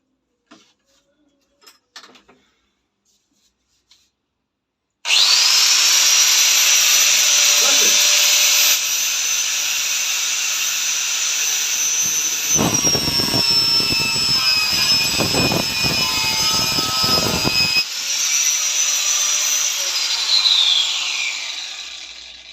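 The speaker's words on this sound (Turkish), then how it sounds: "elmas dişli testere inanılmaz hızlı kesiyor" After a few quiet handling knocks, a diamond-toothed circular saw starts with a loud, close high whine, bites into material for several seconds with a rougher grinding roar, then runs on and winds down.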